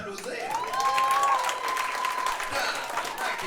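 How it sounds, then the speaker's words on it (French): Audience at a comedy cabaret applauds steadily throughout, with a crowd murmur and a voice rising briefly over the clapping. "Oh, Chris, bravo, félicitations, pour vrai, on peut l'applaudir."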